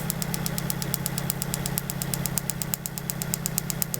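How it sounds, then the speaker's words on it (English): Rapid, regular ticking snaps of a roughly 20–30 kV ignition spark jumping a tester gap, from a 1995 Mitsubishi Libero, close and continuous over a low electrical hum. "You're hearing the spark jump in the gap."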